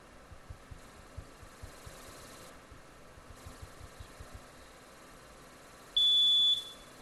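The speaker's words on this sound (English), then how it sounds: "Please ring in the buzzer." A quiz-show ring-in buzzer sounds once as a single loud, steady electronic tone of about half a second near the end, after a stretch of quiet room background with no talking.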